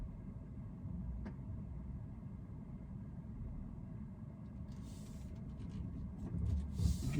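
A car with beta self-driving software cruising along a road, a steady low rumble of engine and tyre noise from inside the cabin, swelling slightly near the end.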